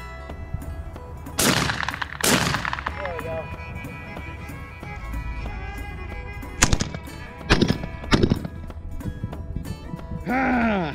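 A CZ USA 1012 12-gauge shotgun fires at clay targets outdoors, several sharp, loud blasts spaced a few seconds apart, with people talking between the shots.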